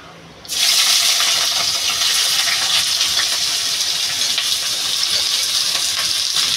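Sliced pointed gourd (potol) hits hot oil in a pan with a sudden loud sizzle that stays as a strong, close, crackling hiss for several seconds.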